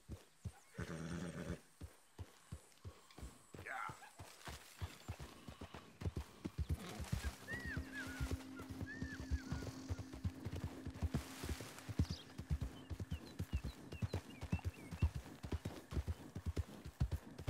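A horse's hooves clip-clop in a steady rhythmic walk, joined by a whinny or snort, fairly faint and close in a game setting.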